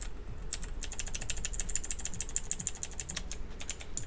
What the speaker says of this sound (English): Little keyboard ASMR there.